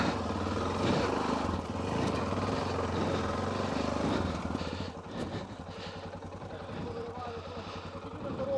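A Yamaha XT660Z Tenere motorcycle's engine drones steadily while riding, a close continuous rumble that eases slightly partway through.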